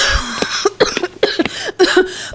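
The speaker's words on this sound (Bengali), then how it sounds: "কাশিটা কিছুতেই কমছে না।" A woman coughs repeatedly in a series of harsh, close, loud bursts with short gasps between them, heard alone without talk.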